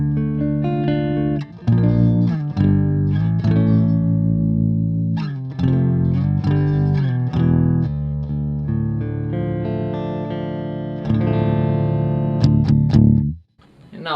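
An electric guitar plays heavy riffs with sustained chords through a distorted Crate Turbo Valve 50-watt tube amp head, loud and close with short breaks between phrases, trailing off near the end.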